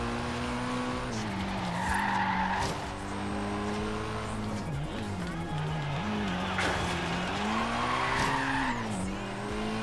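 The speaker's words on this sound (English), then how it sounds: "Oh, bit of drifting for good measure. Or power sliding." A '92 Alfa 155 Q4 drifts in the video game Forza Horizon 3, its engine droning and shifting pitch while the tires squeal in rising and falling bursts, someone talking over it.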